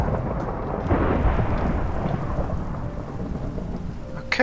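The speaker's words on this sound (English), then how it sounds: "Okay, lightning." Thunder and heavy rain in the Minecraft video game, a steady loud downpour with a deep rolling rumble of thunder, heard alone with no talk.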